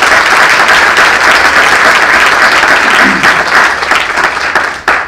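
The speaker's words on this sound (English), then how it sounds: "Big round of applause for all of our spellers." A crowd applauds for the young spellers at the 2018 Aroostook County Spelling Bee. The clapping is dense and steady and fills the room for about five seconds, then thins out and fades at the end.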